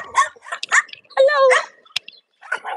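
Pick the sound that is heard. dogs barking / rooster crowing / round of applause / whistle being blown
dogs barking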